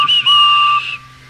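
A railway guard's whistle blasts at a station, a loud, sustained shrill tone lasting most of a second with a brief dip near the start, then cutting off.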